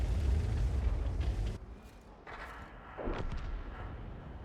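A heavy tank cannon shot from the BC 155-58 in World of Tanks, a single loud boom that opens the moment and fades into a rumbling decay, followed by fainter distant blasts.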